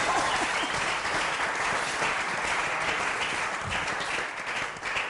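Sustained applause from a church broadcast audience, dense continuous clapping at steady loudness throughout, slightly thinning near the end with no voices on top.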